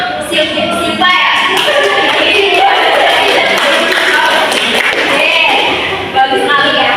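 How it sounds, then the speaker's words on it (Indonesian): Classroom applause for a student named Silva at a school group guidance session, a dense burst of many hands clapping that runs steadily for several seconds, with children's voices and chatter mixed in. "Tepuk tangan untuk Silva ya."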